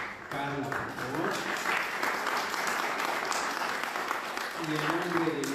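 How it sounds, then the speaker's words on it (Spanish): Sustained applause from a seminar audience at the Museo Nacional de Arte, dense and steady, with some voices mixed in. "quiero que brindemos un fuerte aplauso a Carla, por favor."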